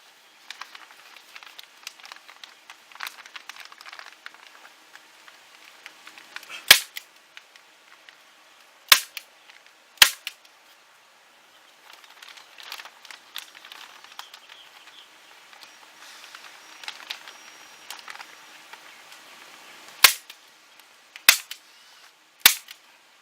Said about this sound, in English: you can come back and you can staple it